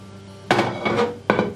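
Potato börek being turned out of a pan onto a plate gives two sharp metallic clatters of pan against plate, close and fairly loud, with a duller knock between them.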